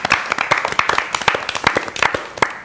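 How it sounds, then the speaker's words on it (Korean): Clapping at a ZEROBASEONE unboxing livestream: a small group claps in quick, uneven bursts, close and fairly loud, for the whole stretch. "여기서 마지막으로 박수!"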